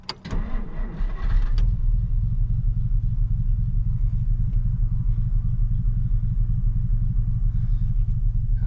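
A 1950 Dodge Meadowbrook engine cranks briefly, catches, and settles into a loud, steady low idle close by, its even rumble continuing to the end without any talk.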